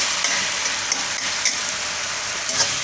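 Mixed dal vadi curry sizzles steadily in a pan, a continuous close frying hiss broken by a few brief stirring scrapes, with no talk.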